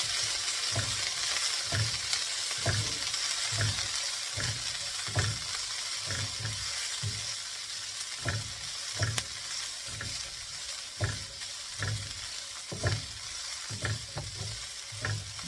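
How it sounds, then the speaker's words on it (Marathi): Peas and mixed vegetables cook in a pan for stuffed capsicum, a soft steady sizzle punctuated by regular, rhythmic stirring scrapes roughly every half second. "आणि यामध्ये आपले मिक्स व्हेजिटेबल जे काय वाटाणे, तुमच्याकडे फक्त वाटाणे असतील तरी चालतील. ॲड करायचं."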